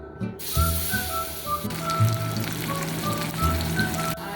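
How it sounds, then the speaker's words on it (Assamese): Rohu fish pieces rubbed with turmeric and salt fry lightly in a little oil in a kadai, giving a steady close sizzle and crackle that hisses on without pause; no one speaks. "এতিয়া মাছখিনিবোৰ ভাজি আছোঁ মই"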